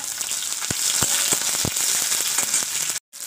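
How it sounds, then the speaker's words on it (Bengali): Chopped onions frying in oil in a pan with tilapia fish and pumpkin give a steady, loud, close sizzle with occasional pops, cut off by a brief silence near the end. "পেঁয়াজটা একটু লালি করে ভেজে নিতে হবে"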